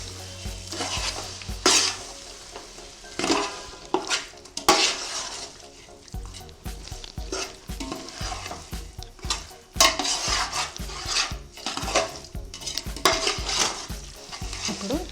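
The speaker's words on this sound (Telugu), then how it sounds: "కొత్తిమీర వేసుకొని బాగా కలపాలి." A spoon scrapes and stirs through a sizzling prawn biryani mixture in a pan as chopped coriander is folded in, with steady frying crackle and frequent clinks against the metal pan.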